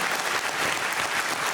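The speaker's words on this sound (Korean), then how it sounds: "성공하셨네요. 박수 한번 주시죠." An audience at a post-screening talk for a concert documentary at a university culture hall gives dense, steady applause, a continuous wash of many clapping hands filling the room.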